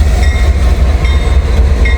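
An SD70ACe diesel locomotive train rumbles past close by in Ohio, a loud continuous low drone with faint rail clatter.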